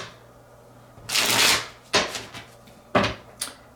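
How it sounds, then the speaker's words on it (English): A card is drawn from an oracle deck during a reading: a long papery slide, then several shorter crisp swipes and snaps close to the microphone. "I'm going to pull out the Panther card."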